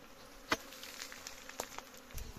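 Wild bees on a rock face in a forest buzz in a faint, steady drone with a few louder passes and light taps close by.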